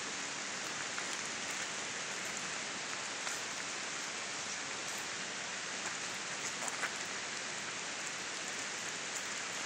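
Steady rain patters on a surface, a continuous hiss with scattered drips and no voices.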